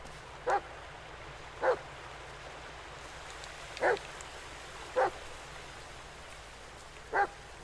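In the Blair Witch video game, a dog barks five times in short, evenly spread single barks at a distance, over a faint steady rain-like hiss, with no talking.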